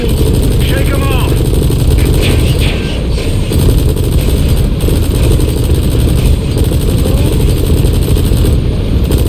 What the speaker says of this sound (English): Use the chopper's minigun.